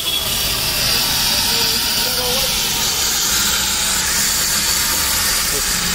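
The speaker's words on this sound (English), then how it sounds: "Getting the intercooler washed." A pressure spray washes the intercooler of a Toyota Fortuner with a 1KD-FTV diesel engine, giving a steady, loud, unbroken hiss of water jet that runs throughout.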